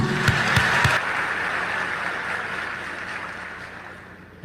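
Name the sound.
audience applause at graduation ceremony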